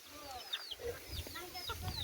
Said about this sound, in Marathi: इकडं कोंबड्या आहेत बघा